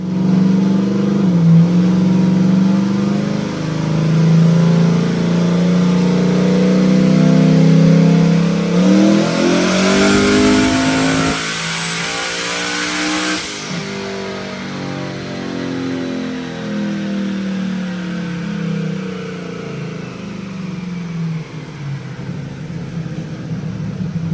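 A boosted car engine on a dyno climbs through a long, loud rev, the pitch sweeping upward before dropping off and settling back into a lower, steady drone.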